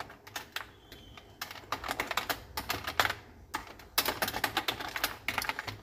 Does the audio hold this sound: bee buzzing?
no